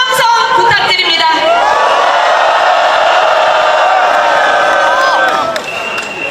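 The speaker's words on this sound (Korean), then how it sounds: "여러분의 큰 박수와 함성 부탁드립니다" A large outdoor crowd at a candlelight impeachment rally in front of the National Assembly cheers and shouts loudly for several seconds, a sustained roar of whoops that fades near the end.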